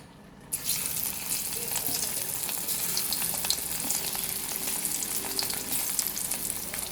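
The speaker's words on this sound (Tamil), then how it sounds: "இதை அப்படியே அந்த ஆயிலில் கொஞ்சம் கொஞ்சமாக போட்டு பொரித்து எடுத்துக்கிடுவோம்." Battered cauliflower pieces for cauliflower manchurian drop into hot oil: after a brief quiet moment, a loud, dense deep-fry crackle and sizzle starts abruptly and keeps going steadily, close by.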